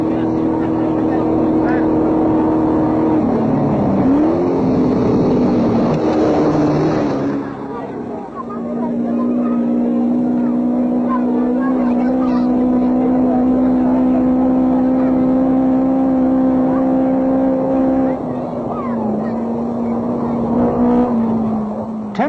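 Datsun rally cars race along a Safari Rally stage through a village in Kenya, a loud engine drone with rising and falling pitch as a car revs hard and passes by, under a narrator's voice.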